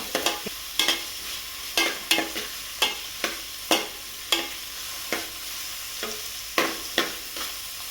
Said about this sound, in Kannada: ಫುಲ್ ಫ್ರೈ ಆಗಬೇಕು ಈರುಳ್ಳಿ ಚೆನ್ನಾಗಿ. ಒಂದು 5 ನಿಮಿಷ ಹುರಿಬೇಕದು ಈರುಳ್ಳಿನ.